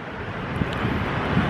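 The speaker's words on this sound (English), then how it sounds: "Sorry if it's too windy and you can't hear me." Steady wind at a beach roars across the microphone, a broad continuous rumble with brief gusty buffets throughout.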